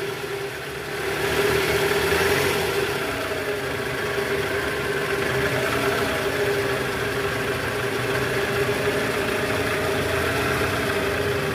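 A Toyota Alphard 2AZ engine idling steadily with a faint rattling tick from a worn balancer shaft, a continuous close hum with no talk over it.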